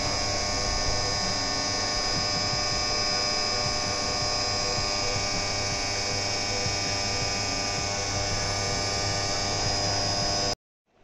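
A CNC mill roughing out a Zundapp five-speed engine part gives a loud, steady machine hum with tonal whine for about ten seconds, then stops abruptly.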